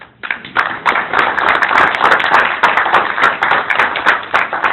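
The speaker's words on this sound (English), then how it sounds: "That in itself awards a round of applause." Audience breaking into a round of applause at a baseball gathering, a dense, lively burst of hand clapping that starts abruptly and holds steady at close range for several seconds.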